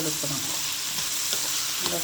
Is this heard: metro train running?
no